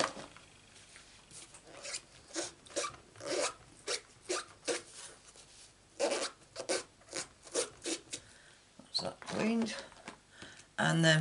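Scissors cutting out a stamped paper piece for a handmade card, a series of short, close snipping and rasping strokes in uneven bursts, with pauses between cuts.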